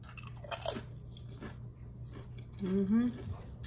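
Tortilla chips loaded with cheese sauce are crunched and chewed up close, with a few crisp bites followed by a louder burst of chewing near the end, with faint voice sounds in the background.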